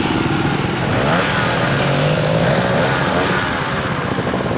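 A motorcycle ridden by a student rider during a riding lesson gives off a loud, steady engine drone close by, with its pitch rising and falling slightly as the rider works the throttle, with no speech.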